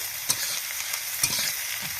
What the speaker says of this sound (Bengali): দেখো পেঁয়াজটাকে ভালো করে ভেজে নিচ্ছি